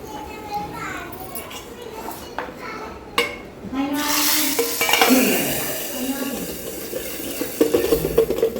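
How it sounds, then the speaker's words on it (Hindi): Hot oil sizzles as asafoetida, cumin and nigella seeds hit the pan for tempering, with clattering cookware and people talking, children's voices in the background. "और उसके बाद इसमें हम डाल देते हैं हींग, जीरा और कलौंजी, इसका तड़का लगाएंगे।"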